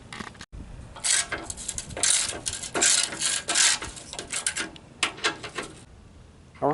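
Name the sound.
loosening bumper bolts on a Toyota Sequoia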